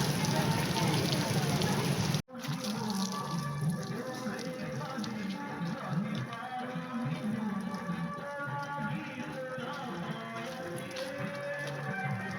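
Heavy rain falls on a village, a steady hiss at first that breaks off abruptly after about two seconds. A softer, busier patter of rain on surfaces follows and continues to the end.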